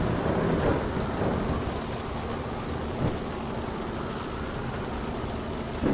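A steady roar of a storm at sea in the Ships 2017 cargo ship game: dense rain, wind and rumbling water with low thunder-like swells, continuous and fairly loud, with no talking.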